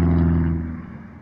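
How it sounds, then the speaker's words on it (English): Loud car engines rumble outdoors in a low, heavy drone that starts strong and gradually fades over about a second. "there's some nice engines out here, nice and loud."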